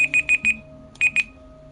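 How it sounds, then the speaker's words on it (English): A timer alarm sounds in quick electronic beeps, a run of four rapid pulses followed by a short pause and two more, loud and close in an otherwise quiet space. "my timer scared the hell out of me"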